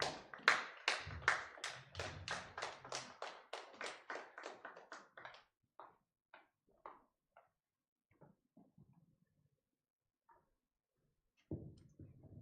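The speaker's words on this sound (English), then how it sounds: "Please, a round of applause for her as she steps forward." Applause from a book launch audience, a steady burst of clapping that thins out into scattered isolated claps and fades to near silence, with a final few claps at the end.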